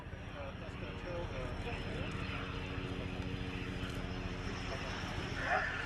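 A Czech Air Force Saab JAS-39C Gripen fighter jet from the 211th Tactical Squadron roars through a flying display, a steady distant engine rumble under a commentator's voice.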